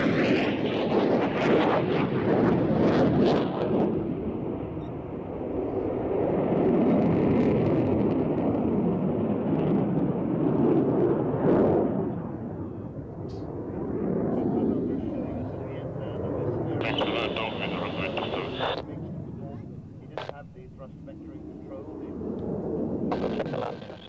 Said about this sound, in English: Streaming the braking parachute on the quite extraordinary MiG-29